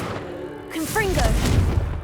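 A Confringo blasting curse goes off in Hogwarts Legacy, a loud booming burst with rising whooshing magical streaks and a low rumbling tail, over a dull background hum.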